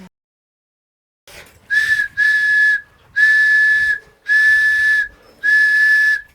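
Handmade whistle blown in five sustained, steady shrill blasts separated by short gaps, loud and close with no talking.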